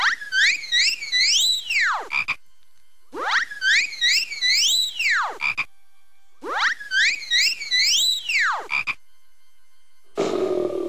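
A cartoon frog croaks in the Discworld video game, its loud, warbling croak-like call repeating three times in a steady pattern with brief silences between, followed by a short burst of noise at the end.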